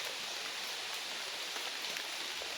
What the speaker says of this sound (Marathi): पाऊस खूप आलाय